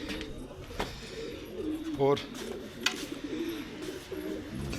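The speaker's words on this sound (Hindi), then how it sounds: "ये रे कबूतर भाइयों" Pigeons coo softly on a hot, still rooftop, low rolling calls repeating under a voice speaking nearby.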